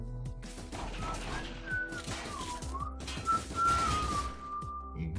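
A player whistles a wavering melody over busy music and bursts of gunfire from the tactical game Frozen Synapse. The whistle sits above a dense, steady background.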